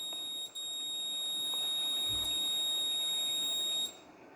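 Arduino GSM vehicle theft alarm sounding as a steady high-pitched electronic tone lasting several seconds before cutting off, loud and alone with a faint low thump midway.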